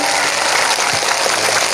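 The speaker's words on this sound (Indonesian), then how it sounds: "saya minta tepuk tangan dulu" An audience of mosque congregants from two neighbourhood units at an Independence Day gathering claps in a brief, dense burst of steady applause.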